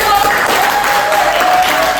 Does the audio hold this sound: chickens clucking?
no